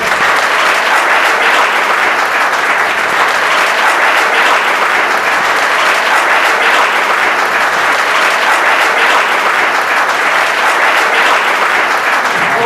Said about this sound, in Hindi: खड़े हो जाओ भाई, जोरदार ताली जाए इस बच्चे के लिए